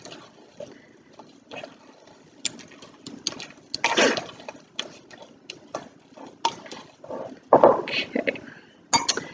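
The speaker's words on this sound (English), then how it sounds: "And then give that a stir." Pumpkin muffin batter with chocolate chips is stirred in a bowl, giving irregular clinks and scrapes of utensil against the bowl, louder bursts around the middle and near the end, with a voice talking over it.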